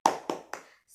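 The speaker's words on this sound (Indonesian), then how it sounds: "tepuk semangat itu adalah tepuk yang dilakukan agar kita bersemangat dalam belajarnya" Three sharp hand claps in a steady rhythm, part of a classroom spirit-clap routine led by a teacher; each clap is crisp and close, with no voices.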